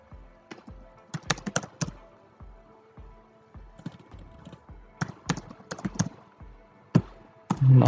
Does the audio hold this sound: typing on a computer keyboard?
yes